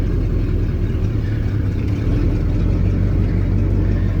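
A 1979 Ford F-350 flatbed truck engine runs in granny low gear with a steady, deep, low rumble close by and no talk.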